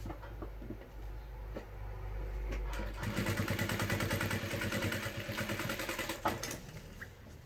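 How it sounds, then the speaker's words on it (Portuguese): Sewing machine topstitching a fabric school backpack, a steady rapid mechanical rattle that starts after a few quiet seconds and runs close and fairly loud to the end. "E passo o meu pesponto."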